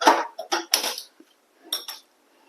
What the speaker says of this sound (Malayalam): ദോശക്കല്ല് വെച്ച് കൊടുക്കുക.